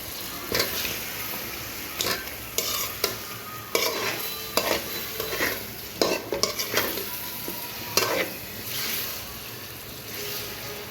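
Fish frying in spiced chili paste in a pan, a steady sizzle broken by repeated scraping and clattering stirs of a utensil against the pan, close and moderately loud.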